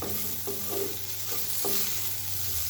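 Cauliflower frying in a pan while being stirred, a steady close sizzle with a few brief scraping stirs, no talking.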